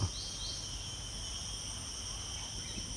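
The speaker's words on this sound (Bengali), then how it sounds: "দেখেন চারিপাশে শুধু ঝিঝি পোকার শব্দ" Crickets in a rural countryside setting, a steady high continuous chirring drone that holds evenly throughout, faint and distant over a low background rumble.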